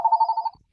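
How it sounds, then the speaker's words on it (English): A telephone rings indoors in a single short, warbling electronic burst that stops abruptly after about half a second. "the phone starts to ring"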